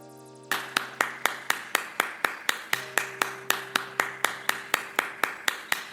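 A clapping sound effect: sharp, evenly spaced claps repeat at a steady quick rhythm over a faint sustained tone, loud and close with no voices.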